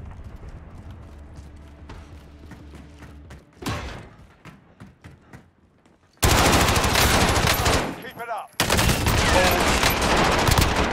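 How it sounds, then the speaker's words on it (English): Gunfire rattles in the Warzone video game: scattered shots and footstep-like clicks at first, then long, loud, dense bursts of automatic fire that break off briefly before resuming, all close and without talk. "Oh, he kept shooting!"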